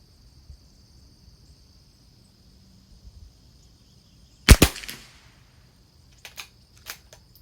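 .22LR rifle from a Christensen Arms Ranger fires a single sharp shot at a long range match on an IBS target, loud and close, followed by two fainter clicks from working the action.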